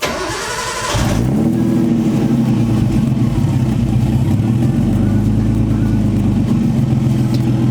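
A Nissan RB20 engine in an LS1 alternator upgrade setup cranks briefly, catches and settles into a loud, steady, slightly uneven idle that runs alone to the end.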